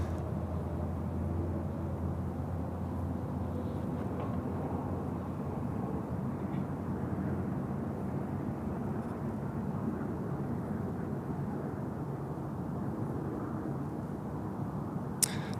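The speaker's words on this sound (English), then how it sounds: "Runway 34 left, Fiji 917, 330-200 coming in." A Fiji Airways Airbus A330-200 airliner on final approach to Sydney Airport's runway 34 left gives off a steady, distant low roar that holds evenly throughout, with no talk.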